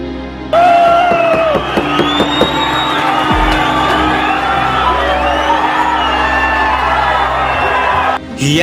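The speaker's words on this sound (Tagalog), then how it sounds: "Hiyawan ng mga tao sa bansang Australia dahil sa husay ng Pinoy" At a boxing match in Australia, a large arena crowd roars and whoops in a sustained wave of cheering that rises sharply and holds loud and dense for several seconds before cutting off.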